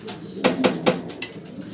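A Modena pigeon coos close up in three or four short, distinct bursts, evenly spaced over a quiet background.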